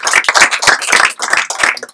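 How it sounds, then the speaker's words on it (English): An audience claps together at a real estate event, a dense, loud burst of many hands close by, steady for a moment with no talking. "Can you please give them a round of applause?"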